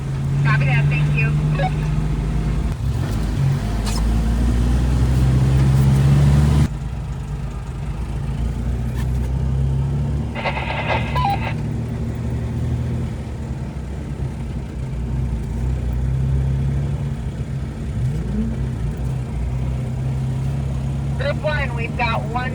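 A Jeep engine idles steadily at a Jeepfest trail ride, a low continuous rumble close by, with radio chatter and brief voices passing over it.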